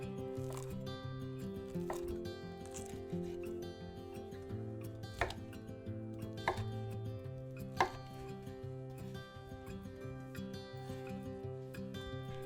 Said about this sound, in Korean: 순대도 한입 크기로 잘라서 준비해주세요.